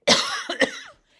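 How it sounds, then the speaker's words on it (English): A single person coughs up close, a sharp harsh burst followed by a second shorter cough, then a brief raspy tail fading into silence. "hang on, I got to cough again"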